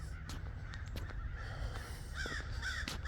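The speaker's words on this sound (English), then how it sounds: "There must be a lot of crows." Crows call outdoors with several harsh caws scattered over a few seconds, heard at a moderate distance above a steady low rumble of outdoor background noise.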